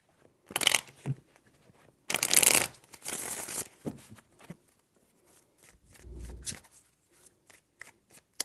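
Tarot cards being shuffled in several separate bursts of quick riffling and crisp slapping, close and fairly quiet, with pauses and small taps between them.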